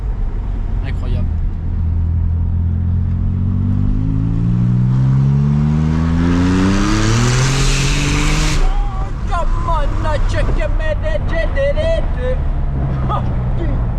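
A Porsche 911 Turbo engine revs up hard under acceleration, its loud rising tone climbing steadily before dropping off and settling, heard from inside the car with a voice talking over it.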